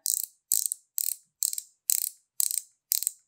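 A touch-up paint pen's end is twisted to pump its syringe and bring paint to the bristle tip, giving seven crisp, even ratcheting clicks about half a second apart, close and isolated.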